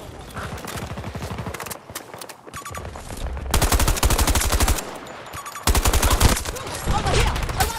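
Falck AK 5C rifle fired in a video game, rapid bursts of loud automatic gunfire in several strings with short gaps, close and harsh.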